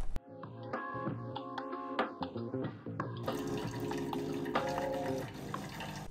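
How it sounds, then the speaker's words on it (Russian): A Delonghi Eletta Explore coffee machine switches on with electronic tones, then runs its self-rinse, pumping a steady rush of water into the pitcher below, moderately loud and close with no talking. "машина будет периодически сама себя промывать"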